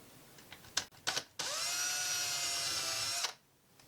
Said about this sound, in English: Make sure your countersink bit is sharp.